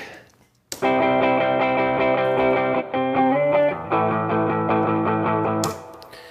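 Distorted electric guitar chords ring out through an amp miked at the cone edge with a thick, dark tone, played in a few sustained strums with short breaks before stopping.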